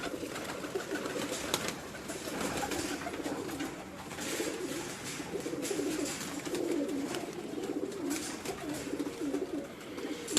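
A flock of beautiful pet pigeons in a Gujranwala home loft keeps up a dense, continuous cooing, many birds overlapping at close range at a fairly even level, with a faint rustle now and then.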